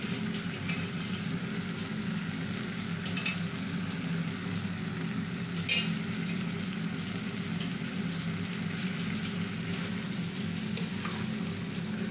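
Soaked mung dal going into a pan for a ripe-mango khichuri, giving a steady, moderate frying hiss that runs evenly throughout, with a faint scrape or two of stirring and no talking.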